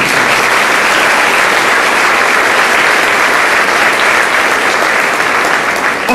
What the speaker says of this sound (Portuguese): Quem crê nisso, aplaude o Senhor Jesus.